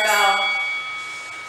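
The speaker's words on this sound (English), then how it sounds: "there's our bell" A single bell strike signals the next interval in a barre workout, a bright ringing tone that rings out and slowly fades, close and clear.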